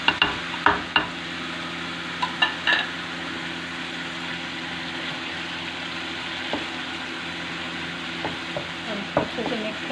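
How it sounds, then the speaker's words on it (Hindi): Ginger garlic paste stirred into lightly browned onions in a pan for dal. A continuous sizzle runs throughout, with several sharp spoon clacks against the pan near the start and softer stirring taps later. "इसके साथ ही हम अदरक लहसुन का पेस्ट डालेंगे।"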